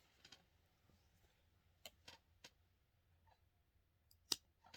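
A few quiet snips from scissors cutting crochet thread, sparse and close, in a nearly silent room with faint clicks between them.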